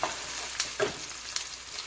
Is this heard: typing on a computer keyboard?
no